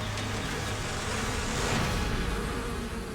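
Bees buzz as a dense, continuous drone, steady and moderately loud, with no other sounds.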